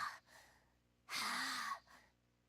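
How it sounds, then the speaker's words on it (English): A Tales of Berseria character breathes onto glass to clean it: a short breath, then one long, loud, airy exhale lasting about a second, heard close up and alone. "When you're cleaning glass, you breathe on it first, don't you?"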